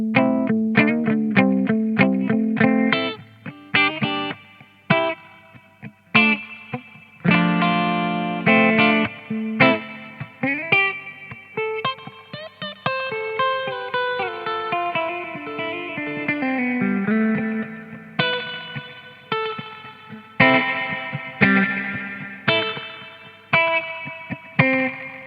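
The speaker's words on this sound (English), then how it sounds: "even on full, it's not overpowering. It's such a lovely sound. It's a really great reverb." An electric guitar played through the reverb side of a JRockett Mr Moto reverb/tremolo pedal, plucked notes and chords ringing out with a surfy wash of reverb tails, alone and fairly loud.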